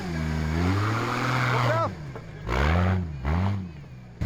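A 4x4 off-road car at an extreme women's off-road challenge, its engine revved hard in loud, close, rising and falling surges, with several distinct bursts of acceleration.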